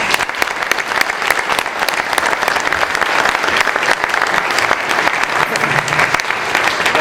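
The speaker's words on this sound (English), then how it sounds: "One more hand of applause." Loud, sustained applause fills a dedication ceremony hall, dense clapping from a large audience running evenly without a break.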